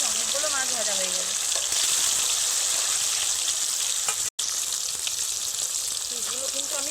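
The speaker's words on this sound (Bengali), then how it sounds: "অনেকগুলো মাছ ভাজা হয়ে যাবে।" Small cut pieces of Japanese puti fish sizzle steadily in hot oil, a loud, continuous crackling hiss, with a voice faintly audible beneath it.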